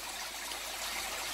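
Water pours steadily from a pipe into a breeding aquarium for pygmy corydoras, a continuous bright trickling hiss at an even, moderate level.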